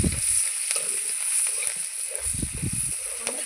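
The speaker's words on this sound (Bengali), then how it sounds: "এখন পেঁয়াজের কচিটা দিয়ে দিলাম।" Chopped onion hits very hot oil left over from frying fish, a bright hiss of sizzling close up with low rumbling bubbles and faint clatter, and a voice speaks briefly beneath it.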